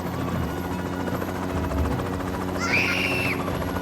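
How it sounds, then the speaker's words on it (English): A helicopter in an animated dinosaur story flies off, a steady rotor drone running under the scene, with a brief higher mechanical whine near the end. "The helicopter left,"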